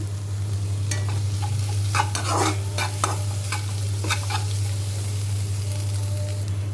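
Onion, garlic and curry leaves fry in a pan for an agathi greens dish, giving a steady sizzle with repeated scraping stirs over a constant low electrical hum.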